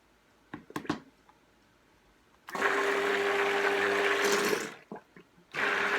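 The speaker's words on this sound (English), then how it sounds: "Just use my stick blender." A stick blender whirs steadily in a clear container of lye water for about two seconds, pauses briefly, then starts again; near and loud, with a steady motor hum and sloshing liquid, and a few small clicks beforehand.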